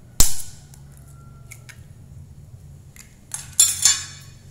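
An egg cracks sharply against a bowl and drops into a potato and green onion mixture, followed by quiet stillness and then a second cluster of clinking and tapping, close and crisp with no voices.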